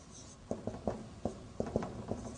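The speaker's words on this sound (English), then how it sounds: "but I am writing it here, brother" Chalk or marker writing on a board during an Arabic language lesson, heard as a series of short, quiet taps and strokes in an uneven rhythm against a hushed room.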